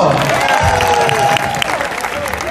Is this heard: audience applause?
yes